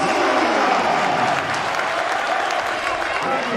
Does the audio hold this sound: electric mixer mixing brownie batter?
no